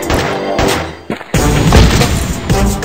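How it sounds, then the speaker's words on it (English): Heavy crashing booms of bombs exploding in Gun Mayhem 2, loud and close, one impact followed by a brief lull and then a larger rumbling blast. "Bombs!"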